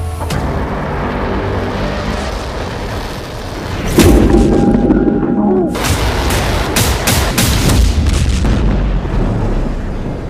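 Heavy booms and explosions from rocket attacks in Beirut, a loud rumbling barrage, then a sharp series of blasts and cracks in quick succession.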